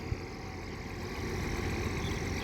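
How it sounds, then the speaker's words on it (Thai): A Ford 7840 tractor with a giant roller attached idles nearby in a steady, low, rumbling drone that holds even throughout, with no talk over it. "ฟอร์ดเจ็ดแปดสี่ศูนย์ ของ จานวิทย์นะฮะอันนี้ เอาขบ ยักษ์มาครับติดรถไถเลยครับ"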